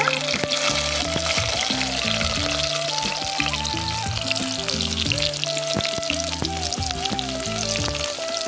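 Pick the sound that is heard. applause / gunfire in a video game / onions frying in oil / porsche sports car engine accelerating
onions frying in oil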